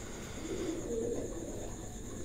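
Caged pigeons give soft, low cooing calls, faint and muffled in a quiet space, with one or two brief coos standing out.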